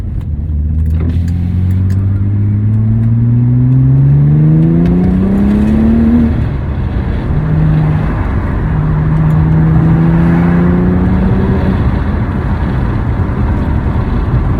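A B5 Audi S4 accelerates hard on a motorway, heard from inside as a loud, steady engine note climbing through the gears with brief dips at each shift, over constant road roar.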